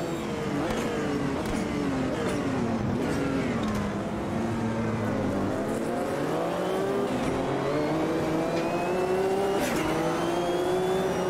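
Race car engines roar steadily throughout a sportscar championship race in the Automobilista 2 video game. The pitch rises and falls with revving and gear changes, and tires squeal briefly through a hairpin turn.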